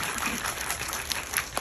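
An audience claps at a Korean stage talk event for the film Hunt, a dense, even wash of applause that holds steady for under two seconds with no voices over it.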